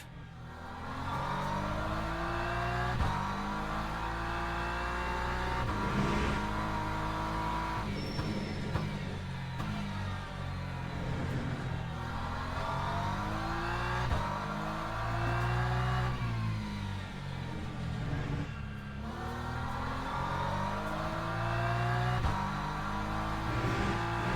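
Race car engine howling steadily through repeated upshifts and downshifts on hot laps around Algarve in Le Mans Ultimate, loud and continuous with rising and falling pitch sweeps, no talking.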